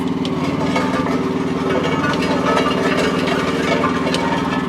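Groundhog RH14G road roller engine running at a steady, loud idle nearby, a continuous throbbing rumble with no pauses.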